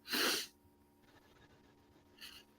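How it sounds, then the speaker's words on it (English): A single sharp sneeze bursts out close up, followed by quiet breathing and a faint sniff. "I'm gonna sneeze."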